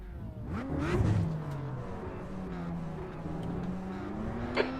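Toyota GR86 Cup race cars pull away from a standing start at Mugello, their engines revving hard and rising in pitch, then settling into a sustained, droning whine.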